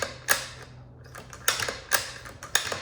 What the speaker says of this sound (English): So we'll just check our bolt head and clearance.